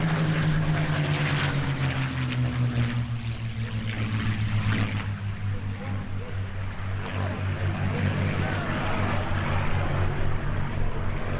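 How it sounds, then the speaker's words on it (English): A Supermarine Spitfire and a P-51C Mustang warbird flying at the Oshkosh AirVenture airshow, their piston engines droning steadily with a slowly falling pitch as they pass, moderately loud and continuous, with faint talk over it. "the Spitfire is now joined by a P-51C Mustang"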